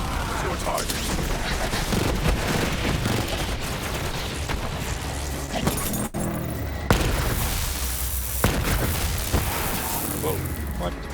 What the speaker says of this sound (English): Why are there so many explosions happening?